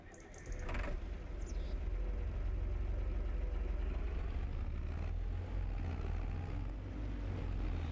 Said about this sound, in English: Some of these older tractors have great sounds.